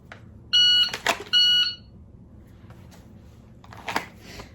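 Two sharp, loud electronic shot-timer beeps ring out close by during indoor dry-fire pistol practice in a studio, followed by faint handling clicks and quiet room noise.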